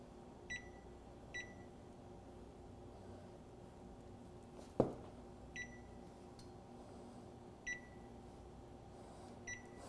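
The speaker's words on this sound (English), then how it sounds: "And I'm going to set the timer for 5 minutes." Faint electronic beeps from an oven timer being set while the oven broils, short isolated chirps spaced a second or two apart, with one louder click in the middle over a low steady hum.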